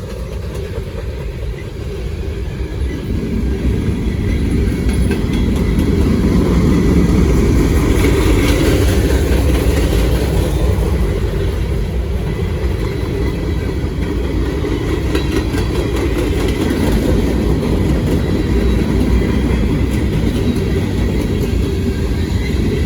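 Norfolk Southern freight train passing on track 2 in Gaffney, South Carolina without slowing down, a loud steady rumble and rolling roar of the cars that continues throughout.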